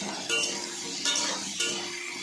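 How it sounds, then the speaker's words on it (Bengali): Potatoes frying in a pan with salt and turmeric, a steady sizzle with a few scraping stirs and metal clinks from a utensil against the pan. "সব দিয়ে ভালো করে আলুগুলো ব্রাউন ব্রাউন করে ভেজে নেব।"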